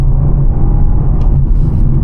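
A rental car pulling hard under acceleration, heard from inside the cabin as a loud, steady low engine drone and road rumble, with no talking.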